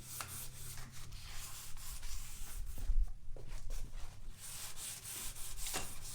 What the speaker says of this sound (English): I have 150 grit on here, very lightly sanded.